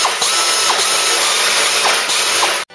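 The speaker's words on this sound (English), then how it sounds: "so I'm going to cut it out with the air niblet." An air nibbler chews through car body metal on a Cortina GXL under restoration, giving a loud, close, continuous rattling buzz with faint rhythmic clicks, then cutting off abruptly.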